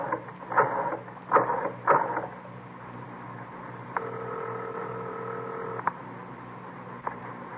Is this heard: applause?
no